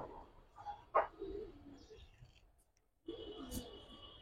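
Soft pigeon coos close by, a few short throaty calls with quiet gaps, then a steadier cooing murmur toward the end.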